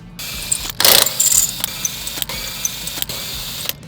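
Wrench working 14 mm bolts holding a car axle to the differential, a loud, steady mechanical whir broken by sharp clicks and short breaks as the tool turns, with no talking.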